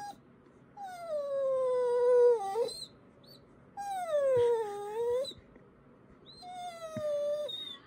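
A pet dog whines and howls indoors in three long, drawn-out wailing cries separated by short pauses, each sliding downward in pitch, with no one talking.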